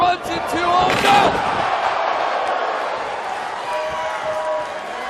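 A wrestler crashes onto a table during a Jon Moxley versus Pentagon Jr. match with one sharp slam, followed by a swelling roar from the arena crowd. An announcer calls the action over the noise.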